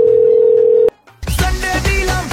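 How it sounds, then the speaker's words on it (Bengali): A steady telephone tone sounds loudly for under a second, then breaks off; after a short gap, loud music with a beat and bright tones takes over. "একটা ফোন করি।"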